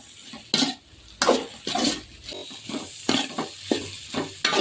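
Ridge gourd stir-fry for a Tamil poriyal is stirred in a pan, with repeated scraping strokes of a spoon against the pan in an uneven rhythm over a soft sizzle, close by.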